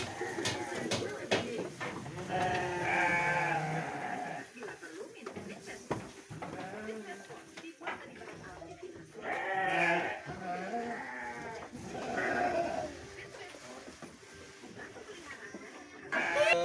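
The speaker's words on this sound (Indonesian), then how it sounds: "di sini ada domba-domba yang berukuran lebih besar" Sheep of the Garut breed bleat repeatedly in a livestock pen on a farm, several calls overlapping at moderate distance, while someone talks over them throughout.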